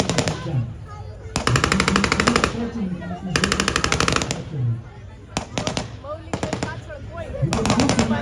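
Bursts of rapid automatic fire from a 30mm cannon and a 7.62mm gun at an Indian Army demonstration, several sustained volleys separated by short pauses, loud and harsh, with voices talking between them.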